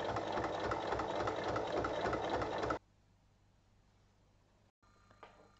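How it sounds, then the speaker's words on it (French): A sewing machine runs steadily for under three seconds, topstitching about 1 mm from each edge of a folded fabric handle for a nail-care vanity case, then stops, leaving quiet room tone. "Et je vais piquer à 1 mm de chaque côté."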